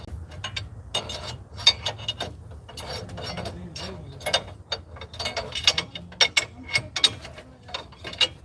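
Ratchet wrench working on the front suspension of a 1997 Chevy, rapid clicking pawl bursts and metallic knocks in irregular runs, close and fairly loud, with a low rumble underneath.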